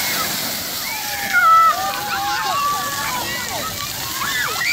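Water splashing and sloshing at the Fuquay water park in Cary on a busy day, a steady bright wash of spray with a brief louder splash, under a babble of distant voices and someone talking.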